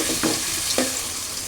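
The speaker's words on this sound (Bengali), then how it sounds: "আমি এখন পেঁয়াজ দিয়ে দেব। কাঁচামরিচ দিয়ে দেবো।" Onions and green chillies go into a hot pan for chicken khichuri made with polao rice. Two short stirring scrapes ring out over a steady close sizzle, with no talking.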